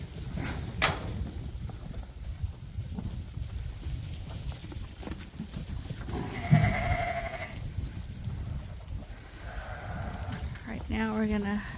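Sheep and ewes in a barn bleat a few times, including a clear bleat near the end, over shuffling hoof and barn noise at moderate distance.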